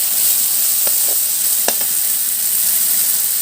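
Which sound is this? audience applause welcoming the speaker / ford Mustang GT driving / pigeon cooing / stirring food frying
stirring food frying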